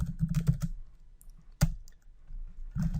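Computer keyboard typing code, with bursts of quick clicky keystrokes, a pause, then a sharp single key strike and another burst, close and fairly clear with no talking.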